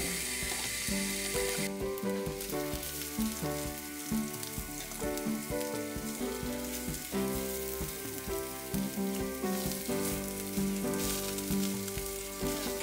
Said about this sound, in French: Je vais le mettre dans ma poêle. Et on cuit tout ça pendant quelques minutes jusqu'à temps que ça grille